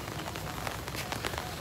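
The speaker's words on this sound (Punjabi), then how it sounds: "ਆ ਤੁਸੀਂ ਦੇਖੋ ਮੀਂਹ ਕਿੱਦਾਂ ਪੈ ਰਿਹਾ" Heavy rain pours at night over a flooded road, a dense, steady hiss of drops drumming on water and pavement, fairly close and unbroken, with no voices.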